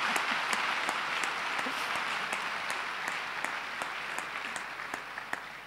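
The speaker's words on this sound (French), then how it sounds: "Est-ce qu'on peut acclamer Dieu ce soir?" A church congregation applauds during an evening worship teaching, a steady wash of clapping with sharper individual claps standing out, sustained and fairly even throughout.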